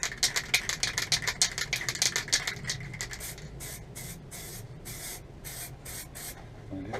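Clear lacquer sprayed onto Suzuki Bandit 1200 motorcycle side panels in a warm workshop: a rapid run of short, close spray-gun bursts at first, easing into longer separated hisses with gaps between passes.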